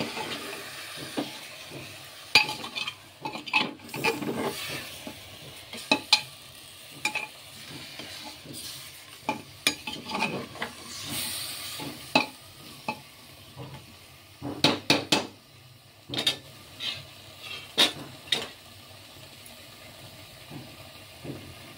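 Onion, garlic and ginger paste is stirred into sizzling mutton curry in a pan. A spoon scrapes and clacks in irregular bursts over a continuous low frying hiss, close and fairly loud.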